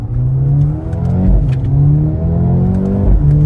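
A 310-horsepower car engine revs loud and steady at close range, its rising and falling harmonic tones sweeping up and down over a deep rumble, with small pops breaking in near the middle and end.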